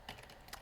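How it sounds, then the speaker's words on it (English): Quick burst of typing on a computer keyboard, a few light clicky keystrokes in rapid succession, close and fairly quiet with no talking. "You just keep typing."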